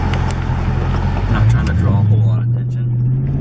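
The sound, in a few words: 2019 Dodge Charger RT Scat Pack engine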